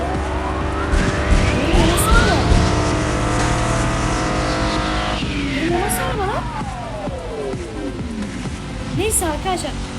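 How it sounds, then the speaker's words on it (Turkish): A car in the video game Mad Out 2 drifts with loud, sustained tire squeal and a revving engine, the pitch sweeping up and down as it slides, with no talk over it. "nasıl bir drift atış lan o?"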